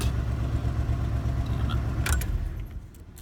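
A Chevy pickup truck's engine runs with a steady, close mid-pitched rumble and faint metallic jingles, then fades and drops away near the end.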